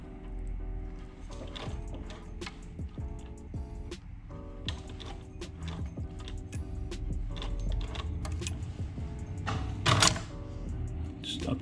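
Industrial sewing machine back tacking while stitching a black liner on a custom Air Jordan 1 sneaker: a steady close mechanical rattle with short bursts and stops, loud and alone without talk.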